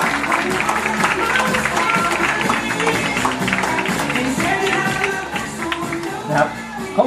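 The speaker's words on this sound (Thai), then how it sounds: "ขอเสียงปรบมือดังๆ ต้อนรับคุณรพัฒน์สิทธิ์สินนท์ประกรณ์ค่ะ" An audience at a business event claps loudly to welcome a speaker, a thick, continuous wash of applause with crowd murmur, and a voice speaks under the clapping.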